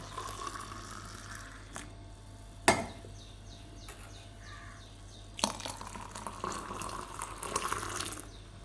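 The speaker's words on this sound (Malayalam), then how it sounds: "ഇനി ഒന്ന് അങ്ങോട്ടും ഇങ്ങോട്ടും ഒഴിക്കാം." Light, weak tea is poured back and forth between a mug and another vessel, giving intermittent liquid splashes with a couple of sharper bursts over a steady low hum.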